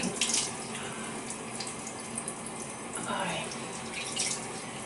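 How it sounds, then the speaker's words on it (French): A bathroom tap runs steadily while someone rinses their face, a close, continuous wash of water with faint splashing surges. "Je vais me rincer le visage."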